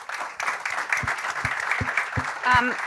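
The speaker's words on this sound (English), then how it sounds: "So let's give them a round of applause" An airport forum audience claps for its panelists, a moderate wash of applause with a few sharp, distinct claps or thumps standing out near the front and a loud swell toward the end.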